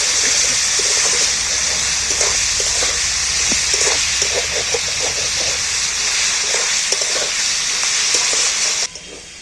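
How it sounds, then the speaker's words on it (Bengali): Jackfruit curry with added salt sautéing in a pan, a loud, continuous hissing sizzle with occasional stirring scrapes underneath, cutting off abruptly near the end. "এইটার স্বাদ মতো নুন দিয়ে দিই এইবার আমি এইটাকে ভালো করে কষিয়ে নেব"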